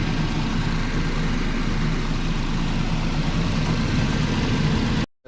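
Nissan Sentra engine idling during a coolant change, a steady close-up mechanical hum with a low even drone that cuts off abruptly near the end.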